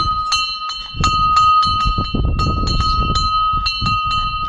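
A bell at an old British-era officers' mess in Jiwani rings for dinner, struck in a steady series of bright, ringing strokes with sustained overtones over about four seconds, close and loud with background rumble.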